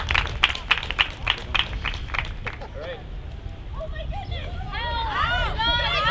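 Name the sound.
audience applause welcoming campus response team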